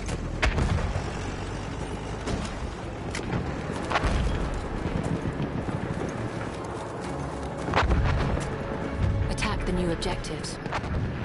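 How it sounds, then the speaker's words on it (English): An enemy artillery barrage in the War Horse game on PS4, with repeated heavy booms and blasts scattered across the stretch over rumbling battle noise, and a voice speaking briefly. "Wait for the enemy artillery barrage to stop firing."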